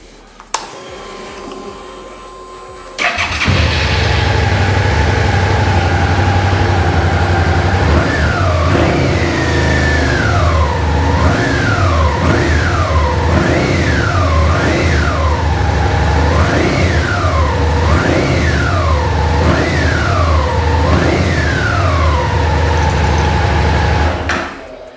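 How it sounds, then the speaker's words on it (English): A Suzuki SFV650 Gladius motorcycle with about 24,572 miles cranks briefly, then its engine catches and idles loudly and steadily up close, with a wavering, rising-and-falling tone running through the idle. "let's start this up and listen to it run."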